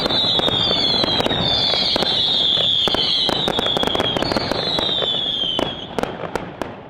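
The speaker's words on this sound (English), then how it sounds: "the grand finale of this festival was this huge fireworks display" A loud, continuous barrage of festival fireworks in northern Sicily: sharp cracks and booms overlapping with whistling rockets, sustained for several seconds before easing slightly at the end.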